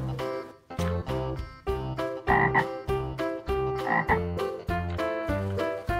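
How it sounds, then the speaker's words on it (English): A green frog toy gives a repeated musical croaking sound, looping rhythmically and loudly throughout with no talk. "Green frog."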